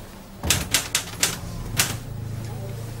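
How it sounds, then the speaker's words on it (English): Typewriter keys strike in a quick burst of about five sharp clacks, then a pause and a final clack, set in a police station office, against a low steady room hum. "That was bloody typing anyway."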